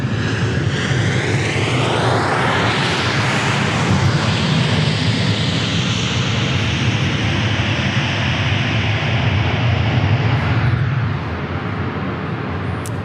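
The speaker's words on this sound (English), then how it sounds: "Uh-oh, we got a 717 alert. We get a 717 alert. Delta Airlines." A Delta Air Lines Boeing 717 jet passes overhead at Dallas Love Field, a loud, broad engine roar that swells and sweeps in pitch, holds steady for several seconds, then eases off slightly near the end.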